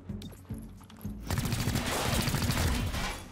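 Gunfire in XCOM: Chimera Squad, a few sharp shots at first, then a sustained loud burst of rapid automatic fire.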